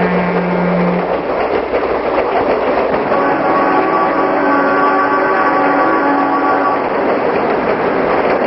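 An old freight train hauling railcars rumbles past up close and loud, with a short horn note at the start and continuous rolling wheel noise throughout.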